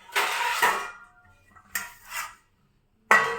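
A metal lid lifted off a pot of jaggery payesh, with short clattering scrapes and clinks of metal on metal in three close separate bursts and near-silence between them.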